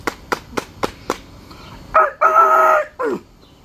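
A rooster crows at a backyard birthday party setup, starting with several sharp wing-flap-like bursts and then a loud, close, drawn-out crow in two strong phrases.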